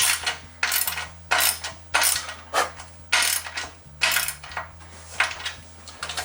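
A ratchet with a 13mm socket tightens 5/16 bolts while an offroad utility rack is installed, producing close, rhythmic bursts of clicking strokes, about nine in a row, with no talking.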